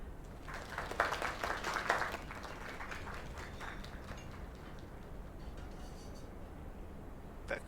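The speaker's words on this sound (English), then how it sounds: "Another round of applause." A short burst of crowd clapping in the video game Lake rises in the first couple of seconds, then thins out into scattered claps and background murmur.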